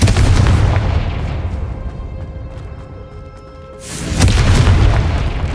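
Confringo fire spell in Hogwarts Legacy on PS5, a heavy booming blast that rolls and decays over a few seconds before a second loud explosive rumble erupts, close and powerful.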